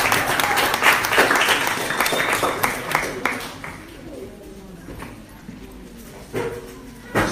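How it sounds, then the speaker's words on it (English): An audience at a Grove Town Division spelling bee claps for the eight remaining spellers in a loud burst that thins out after a few seconds, leaving scattered quieter claps and room noise. "we need to give these 8 spellers a rousing round of applause"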